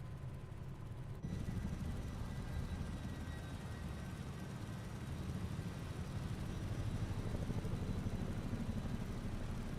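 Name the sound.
Chinook helicopter rotor slap in video game Microsoft Flight Simulator 2024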